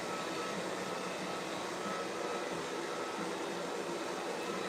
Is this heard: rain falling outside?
no